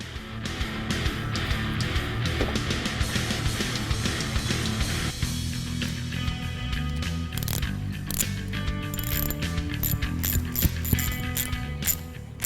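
Clamp being snugged up on a rubber hose of a Mishimoto baffled oil catch can on a 2016-2018 Ford Focus RS, with steady ratcheting clicks and mechanical rattling running close and continuous throughout.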